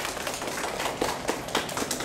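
Participants at a citizens' workshop meeting in Nanjo clap together, a steady dense patter of applause from a modest group at moderate volume.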